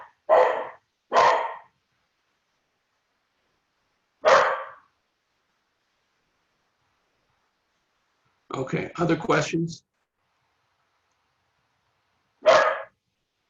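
A dog barks several times in separate bursts, first as a quick pair, then a single bark, a rapid cluster, and a last bark, fairly near in a quiet indoor room while someone briefly speaks.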